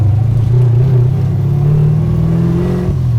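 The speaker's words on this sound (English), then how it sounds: "let's take one more turn in this bad boy. Downshift it over here." A heavy 490ci V8 engine in a 1969 Chevrolet Camaro SS rumbles steadily up close, its pitch rising and dipping as it revs and downshifts, with a brief drop near the end.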